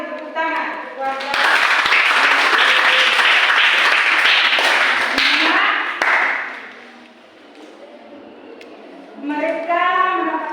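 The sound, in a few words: applause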